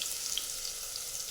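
Garlic-ginger paste and onion sizzle in hot oil in a pan, giving a short, soft, steady crackling hiss with no voices.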